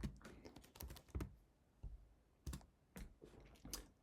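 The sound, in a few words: typing on a computer keyboard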